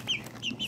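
Pheasant-chicken hybrid chicks give several short, high clucking peeps close by, in quick bursts spaced across a brief moment with no talking.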